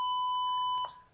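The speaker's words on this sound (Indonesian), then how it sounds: "buzzernya juga tadi nyala" A buzzer on an IoT relay circuit gives one steady electronic beep that triggers when the temperature goes above 35 degrees, then ends in a click and fades out. No voices.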